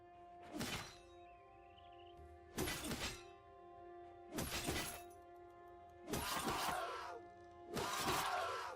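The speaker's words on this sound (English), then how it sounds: "the Undead Cleaver smashed all the armor" An Undead Cleaver weapon smashing armor in a video game, five evenly spaced heavy crashing impacts with shattering metal debris over a quiet sustained background tone.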